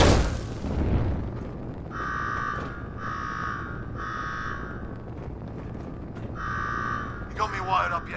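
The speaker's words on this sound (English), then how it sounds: "Now go shut off that damn alarm." Repeating electronic alarm in Fallout 4's Nuka World, sounding in about four evenly spaced pulses of roughly half a second each over a low ambient rumble, with a sharper burst right at the end.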